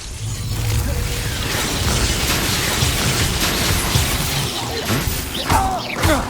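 Confringo blasting spells from Hogwarts Legacy, a loud sustained roar of crackling bursts and mechanical clanks from the game, dense and continuous with a few sharper impacts, no talk.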